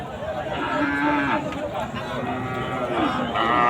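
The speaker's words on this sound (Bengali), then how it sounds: "দর্শক শ্রোতা, এটা কিন্তু সিন্ধি গরু।" A Sindhi cow lows at a busy cattle market, drawn-out moos rising over a murmur of crowd and nearby talking.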